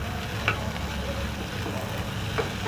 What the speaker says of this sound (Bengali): এই সবকে ভালো করে সয়াবিনটাকে আরেকটু আমি কষে নিয়ে গরম জলটা দিয়ে বন্ধ করে দেবো।